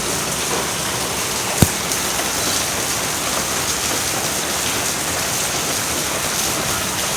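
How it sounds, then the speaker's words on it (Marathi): Steady rain hisses across the whole span, broadband and even, with one sharp click partway through and no voices. "त्यामध्ये पाऊस मस्त"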